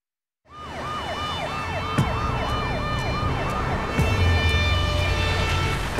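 An ambulance siren wails in a repeating rising-and-falling pattern, loud and close, over a steady engine rumble with occasional clicks.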